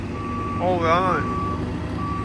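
Reversing beeps from a feed mixer wagon on a farm, a steady repeating warble over the low rumble of the machine's engine, fairly close, with a voice briefly heard.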